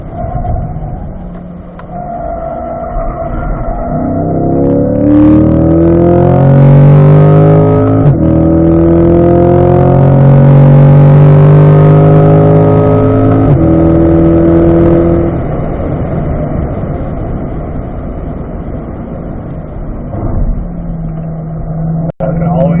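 A C8 Corvette engine accelerating on a race track, a loud sustained roar rising in pitch through the gears, with a driving instructor talking over it.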